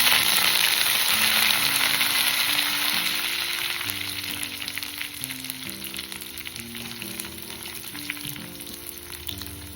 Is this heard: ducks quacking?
no